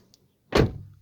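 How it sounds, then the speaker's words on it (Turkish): An Opel Astra J car door opens with a single solid thunk and short rattle, close up, with no talking over it. "Kapıyı açalım."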